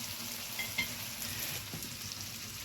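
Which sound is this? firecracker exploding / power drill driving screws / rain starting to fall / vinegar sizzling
vinegar sizzling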